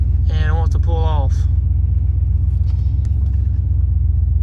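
A 1993 Chevrolet K1500 pickup running rough idles with a deep, continuous rumble, someone speaking briefly over the low engine drone at the start before it carries on alone.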